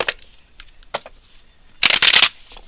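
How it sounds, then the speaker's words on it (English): Tarot cards flick and slap softly a few times, then a dense, loud riffle as the deck is shuffled, all close up with no talk. "let's pull some cards on your current love life"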